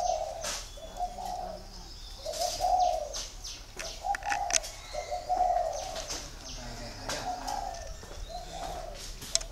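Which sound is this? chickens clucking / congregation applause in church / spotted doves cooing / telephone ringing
spotted doves cooing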